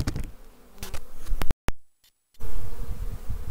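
Carniolan mountain honey bees buzz steadily around an open hive in a cold spring, a close dense drone with a few sharp clicks and a brief dropout in the middle.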